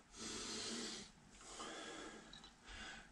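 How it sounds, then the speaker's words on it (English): Slow breathing drawn in through the nose and pushed out through the mouth during a home fitness lesson, two long airy breaths close up, with no talking. "In through the nose and out through the mouth."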